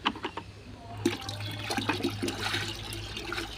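Liquid plant fertilizer for vegetables poured from one container into another, a gurgling, splashing stream that starts after a few soft knocks and runs steadily at close range.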